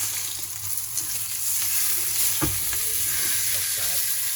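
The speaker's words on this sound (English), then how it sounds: "you can still hear the sizzle" A tomahawk steak sizzles and crackles steadily in a hot pan, close and loud, with a brief clatter of utensil movement partway through.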